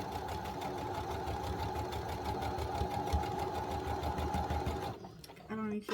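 A sewing machine stitches socks in a fast, steady mechanical rattle that runs close and continuous before stopping near the end, where a voice briefly speaks.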